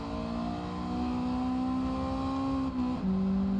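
Honda Integra race car from Gran Turismo 7 held on the rev limiter, a steady high-pitched engine buzz with a brief dip and stutter near the end before resuming, loud and alone.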